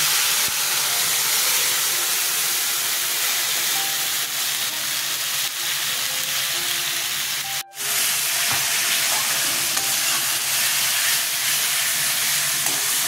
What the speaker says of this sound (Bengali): কাঁচা লঙ্কা ফোড়নে দিলাম, কালো জিরে দিলাম, লঙ্কা, আদা, পেঁয়াজ পেস্ট ছেড়ে দিলাম।